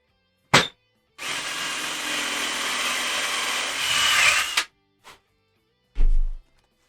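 A power drill bores a hole into a guitar, giving a steady whirring, grinding burst of about three and a half seconds, with isolated knocks before and after in an otherwise quiet room.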